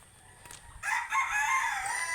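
A rooster crows loudly and close by in a single drawn-out call, after a brief moment of quiet with faint clucks beforehand.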